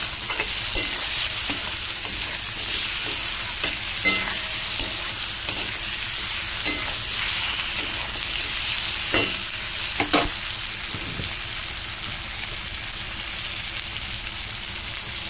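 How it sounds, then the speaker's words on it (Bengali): Thinly sliced potatoes frying in oil with onions are stirred, producing a constant close sizzle broken by scraping strokes and clicks of a spatula against the pan throughout. "আলুটা দিয়ে ভালো করে আমি নাড়িয়ে নেব।"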